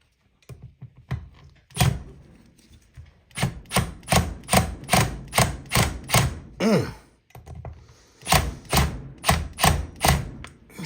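A Big Daddy Surge power tool hammers at a tight pocket bike clutch in repeated bursts of sharp, rapid impacts, loud and close, pausing briefly before the rattling blows resume.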